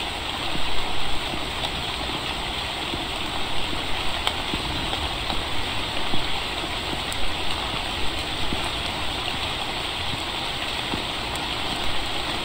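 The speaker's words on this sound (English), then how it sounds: "Gotta love the rainy nights." Heavy rain hisses steadily on a rainy night in a video game, a dense, even wash of sound with a few louder gusts and no talking.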